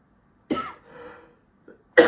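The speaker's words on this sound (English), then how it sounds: "Coughing like a trooper." A few close coughs ring out in a quiet room: one harsh cough with a rasping tail, a brief small one, then another sharp cough starting at the end.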